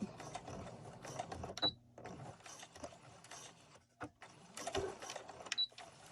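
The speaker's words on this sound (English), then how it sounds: "I'm going to go ahead and do the back stitch a few times" A sewing machine runs in short bursts while back stitching a cloth face mask, close mechanical whirring with brief pauses between runs and small clicks.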